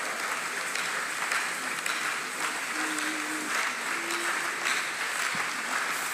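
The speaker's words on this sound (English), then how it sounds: "Keep clapping." An audience at a church convention sermon in Canada claps steadily, a dense, sustained wash of applause from a large crowd, with faint tonal sounds briefly audible underneath.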